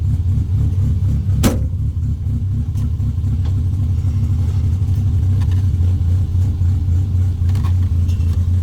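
Car engine running steadily while being driven, a low continuous rumble with no speech, briefly punctuated by a sharp click near the start.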